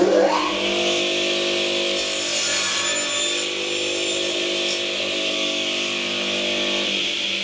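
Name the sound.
console circular saw cutting coarse material into pieces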